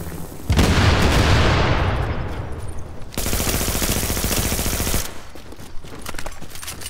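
Video game gunfire in a third-person shooter, a loud sustained burst of rapid automatic fire with a booming onset, then a second dense stretch of fire that cuts off into quieter scattered shots.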